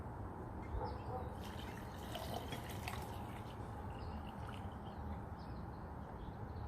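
Borax water pouring over a crystal rainbow craft, a steady wet splashing and trickling that runs unbroken and fairly close, with no voices over it.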